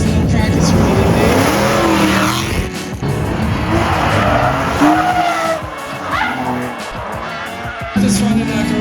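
A turbocharged AE86 drift car with a 3SGE BEAMS engine at a Canadian Drift Series practice session in Toronto, its engine roaring continuously with tires squealing and skidding, loud and near throughout, and a voice talking over it.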